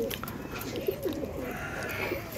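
Pigeons cooing in a loft, including black pigeons, with repeated soft throaty coos close by over a light background hum, no talking.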